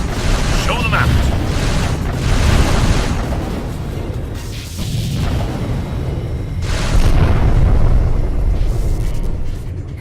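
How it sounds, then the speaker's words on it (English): A torpedo salvo fires in the space combat game Freespace Blue: War in Heaven, with loud rumbling booms and blasts that swell and overlap in a dense roar for several seconds. "All torpedo stations. Get me salvo fire on the hood."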